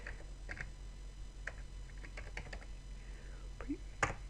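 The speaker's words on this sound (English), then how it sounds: "this time we're going to type in prefetch" Laptop keyboard typing: a few scattered, light key clicks in short bursts, faint and close against a quiet room hum, with no talking.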